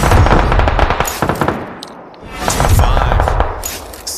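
Gunfire in a PUBG first-person squad tournament match: loud, close rapid bursts of automatic weapon fire with sharp cracks, a brief lull, then another burst and a trailing run of shots.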